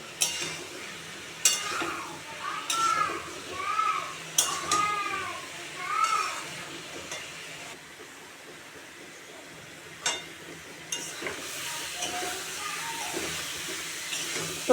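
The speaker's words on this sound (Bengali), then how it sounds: "ডিমগুলোকেও এটার সঙ্গে এড করে দিয়ে আমি কষাবো" Potatoes and eggs stir-fried together in a pan for a home-style Bengali egg dish: a spatula scrapes and stirs in repeated strokes over a steady, close sizzle, with a faint voice now and then.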